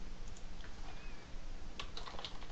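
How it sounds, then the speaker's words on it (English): Quiet keyboard typing as a password is entered on a computer, a few soft scattered key clicks over low room hiss. "type in a password of my choosing"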